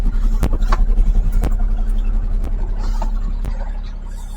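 The engine of an old classic car idles loudly and close by with a steady, throbbing rumble, broken by several sharp clicks and knocks.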